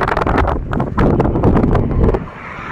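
Strong highway wind buffets the microphone of a moving moped, roaring in loud, irregular gusts that pound for a couple of seconds before easing slightly near the end.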